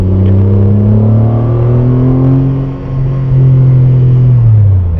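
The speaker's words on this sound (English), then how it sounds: "It just revs really well." A sports car engine revs up through its range, loud and close, its pitch climbing in smooth sweeps, dipping briefly, then rising again before easing off.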